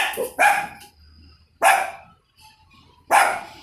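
A female dog barks three times at steady intervals, loud and close, each bark sharp and brief, with quiet room sound between them.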